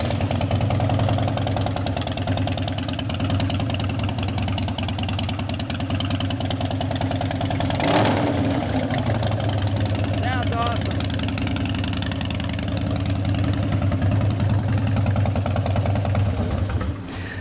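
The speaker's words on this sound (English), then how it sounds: "I'm gonna start it up for you." A 2004 Harley Dyna Lowrider motorcycle idles steadily nearby, its engine a continuous loud low rumble with a brief louder blip midway.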